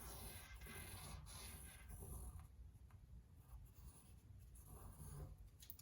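A pencil or pen traces around a hand on a sheet of folded paper, giving a continuous close scratchy rubbing that keeps going for several seconds with no talking.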